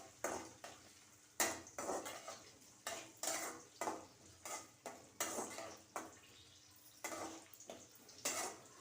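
Onions frying in a pan for aloo parwal curry, with a steady sizzle under repeated scraping strokes of a spoon against the pan, about one stir per second, close and moderately quiet.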